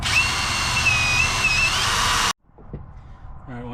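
A step bit drills out a bracket hole on a 2020 Toyota 4Runner TRD Pro during a suspension install, a steady high whirring grind with a thin whistle that stops abruptly, followed by faint handling noises.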